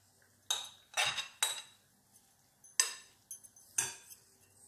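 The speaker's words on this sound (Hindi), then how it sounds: "अब हम इसमें बीफ डाल देंगे।" Beef goes into a marinade in a bowl for Chinese-style dry beef chilli, with a handful of close, crisp clinks and scrapes of a utensil against the bowl in an irregular rhythm and quiet gaps between them.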